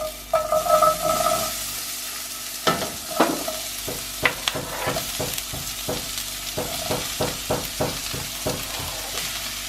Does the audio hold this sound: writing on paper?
no